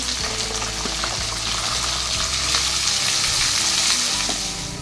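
Finely chopped onions and green chillies fry in hot oil in a pan, a loud continuous close sizzle with faint stirring scrapes and no voices.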